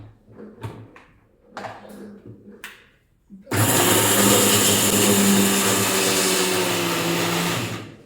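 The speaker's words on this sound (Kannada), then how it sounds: "ಇವಾಗ ತೆಂಗಿನಕಾಯಿ ಅರ್ಧ ಹೋಳಿದೆ, ಇದನ್ನ ಮಿಕ್ಸಿ ಜಾರಲ್ಲಿ ಪುಡಿ ಮಾಡ್ಕೊಳ್ಳಿ" A mixer grinder jar grinds halved coconut in a home kitchen, switching on loudly after a few seconds of quiet knocks and handling noises and then whirring steadily at full speed until it cuts off near the end.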